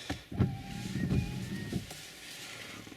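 Windshield wipers on a Mazda CX-3 or Honda CR-V running in auto mode, several quick motor-driven sweeps close by, each a short whirring pass, with no talking.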